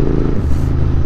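Royal Enfield Continental GT 650 exhaust, a loud, steady low engine rumble with a throbbing beat, heard close and continuous over a short stretch with no talking.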